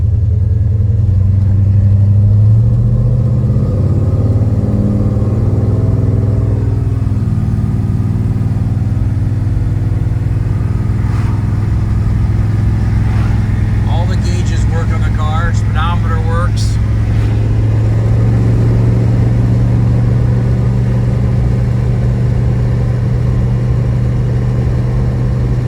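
A 1973 Plymouth Scamp with a 318 engine and automatic transmission runs steadily with a low, heavy rumble, close and loud, throttle rising briefly early on, while faint clicks and rattles sound in the middle.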